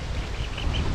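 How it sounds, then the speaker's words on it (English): Ducks quacking outdoors, a dense, loud run of overlapping quacks filling the whole moment with no talk. "You maybe you'll hear them quacking."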